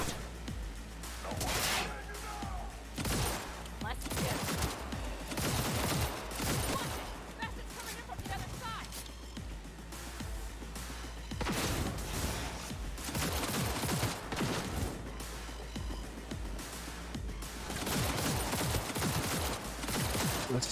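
Sniper rifle fire in Cyberpunk 2077 during a dense firefight, with repeated loud sharp shots over constant gunfire and combat noise, and voices now and then.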